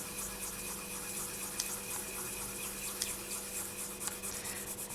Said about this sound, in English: grab a piece of paper and burnish thoroughly so that everything sticks together